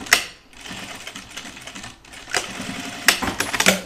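Sewing machine stitching dungarees in short, uneven bursts, with sharp clicks and brief pauses between runs, close and fairly loud.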